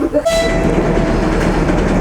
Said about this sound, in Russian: Сейчас у них поезд тронется, поедут дальше.